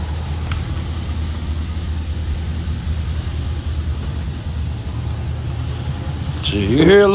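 A Chevrolet Caprice police-package V8 idles steadily with a slight lope after a header and converter install, a close, continuous low rumble that swells at the end.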